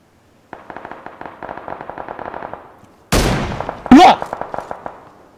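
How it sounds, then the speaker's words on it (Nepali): Rapid automatic gunfire in PUBG rattles in quick bursts, followed by two louder, closer shots with sharp cracks and a whizzing bullet, then more bursts; a voice talks briefly. "कान के छेउबाट उडेर गइदिरा गोली त"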